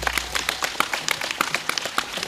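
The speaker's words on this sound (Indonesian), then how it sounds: "tepuk tangan untuk pecalang" Scattered, uneven claps from a crowd applauding the pecalang, Balinese traditional security guards, individual hand claps distinct and fairly quiet.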